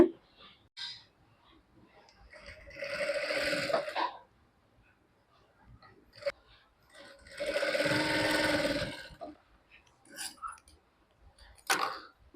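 A tailoring machine stitches a maxi top's fabric in two sustained runs of steady whirring, each lasting a couple of seconds, with short clicks and pauses between them and no talk.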